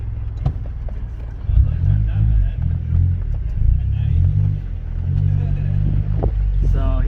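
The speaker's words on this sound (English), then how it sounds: "Alright, so I'm gonna test drive it and see how it does." A Mazda Mazdaspeed 3 with a newly installed downpipe on a test drive makes a steady, close engine drone inside the cabin that swells slightly as it pulls, with brief speech near the start.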